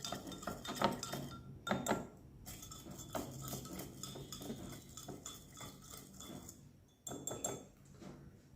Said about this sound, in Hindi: इस चावल को मैं पानी से मिला देता हूँ।